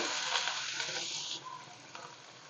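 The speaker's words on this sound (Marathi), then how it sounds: "तेल गरम झालेलं आहे आपण याच्यामध्ये हे तमालपत्र घालूया ह्याच्यामध्येच कांदा घालूया" Chopped onion and bay leaf hit hot oil with a loud, dense sizzle that eases after about a second and a half into a steadier, softer crackle, with a brief flare near the end.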